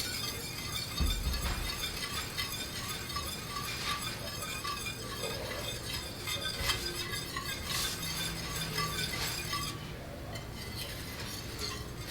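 A whisk works cream in a pan over medium heat, giving a steady, faint scraping and clinking with a soft sizzling hiss beneath.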